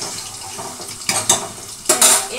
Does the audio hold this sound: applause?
no